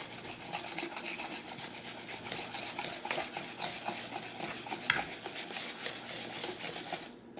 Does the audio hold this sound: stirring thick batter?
yes